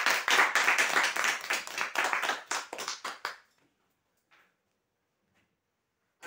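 Hearty applause from a crowd for the third-prize winner of a seven-litre pressure cooker at a customer lucky draw: dense, steady clapping for about three seconds, then fading to near silence.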